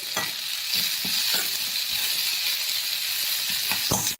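Onions sizzle in hot oil in a pan for a yam (karunai kilangu) curry, with a steady close hiss broken by soft stirring scrapes and no voices.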